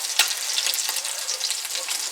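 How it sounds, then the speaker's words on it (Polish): Breaded cod fries in hot oil in a pan with a steady, bright sizzle and occasional small pops, close and continuous. "Ryba już się smaży 5 minut"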